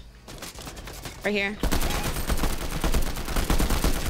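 Assault rifle fire in Fortnite, the new AR combat assault weapon: dense, continuous rapid bursts of loud gunfire fill most of the clip, with a brief voice speaking near the start.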